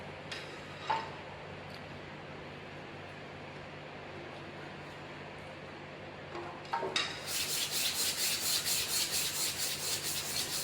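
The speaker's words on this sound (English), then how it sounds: "The wear action is taking place between the abrasive material and the surface of the workpiece." An emery sheet rubbing on an austenitic stainless steel workpiece in a lab. The room stays fairly quiet at first, then a loud, continuous rasping scrape with a pulsing back-and-forth rhythm takes over for the last few seconds.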